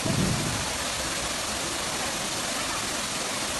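Loud, continuous roar of the Valara waterfall in Idukki, Kerala, a dense rushing wash of falling water that stays even throughout.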